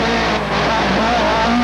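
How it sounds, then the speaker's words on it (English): A Toyota Atlantic open-wheel race car at Long Beach in 1991, its engine loud and close as it downshifts hard through the gearbox, with rising and falling tones over a dense mechanical roar. "it still sounds plenty good as he gets ready to jam back down through the gearbox"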